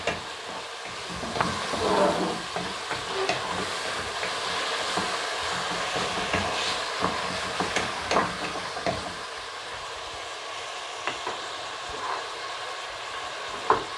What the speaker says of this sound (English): Then of course we keep stirring.